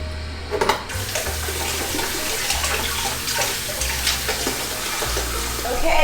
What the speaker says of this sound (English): I'm filling this up with water